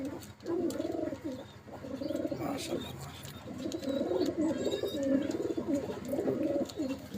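Imported Pakistani teddy pigeons coo in a loft, several birds overlapping in soft, throaty, repeated rolling calls close by, with occasional faint chirps and a voice speaking at moments.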